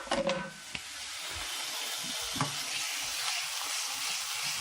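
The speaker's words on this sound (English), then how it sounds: "Hopefully you can hear me over the sizzle, sizzle." Chicken pieces sizzle and hiss steadily in a hot frying pan, with a few scrapes and clatters near the start as they are pushed around, and the crackle then settles into a constant fry.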